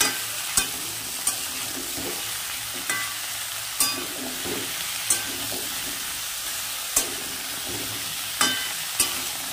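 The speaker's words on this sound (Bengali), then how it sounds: "এবার দিয়ে ভালো করে একটু নাড়িয়ে দেবো" Steady sizzling of mixed vegetables frying in a wok, with a metal spatula scraping and tapping the pan every second or so, close by and without talk.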